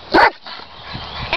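A golden retriever gives one loud, close bark on command during training, followed by quieter shuffling and a faint second yip at the end.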